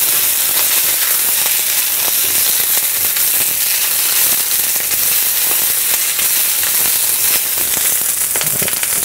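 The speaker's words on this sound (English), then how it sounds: "We're going to throw the rest of our green onion in there now." Green onions hit a hot pan with a loud, dense, unbroken sizzle, crackling and hissing steadily close up with no talk.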